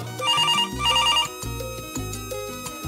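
A telephone in a television studio rings with a loud, repeating electronic trill in two bursts, over a backing of music.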